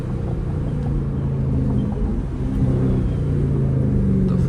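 Close car engine roars and drops pitch through downshifts on bumpy city roads at night, a loud continuous rumble with shifting tones and no talking.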